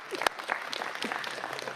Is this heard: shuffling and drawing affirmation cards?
no